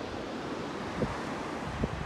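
Ocean waves at Adventure Bay, Tasmania, heard as a steady broadband wash with two soft surges of surf, faint and mixed with wind noise on the microphone, no voices.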